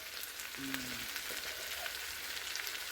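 Mushrooms fry in a pan of pesto oil with a steady, close, hissing sizzle, broken by a few faint clinks and stirring touches and no speech.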